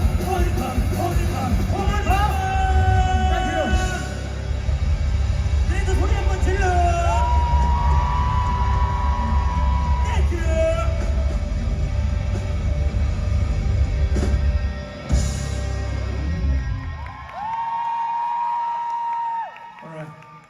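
A musical theatre audience rises and cheers loudly, with whoops and yells over pounding rock music and amplified voices, the band cutting out near the end while a held vocal line rings on.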